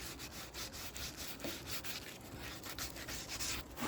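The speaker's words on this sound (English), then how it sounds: "And even what I was doing is sanding the sinew part." Steady rubbing and scraping of sandpaper on the sinew lacing of handmade native snowshoes, a continuous gritty back-and-forth texture heard up close with no talking.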